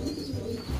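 A sick pet pigeon in a loft gives a short, low, soft coo, close by and alone, over a faint background hum.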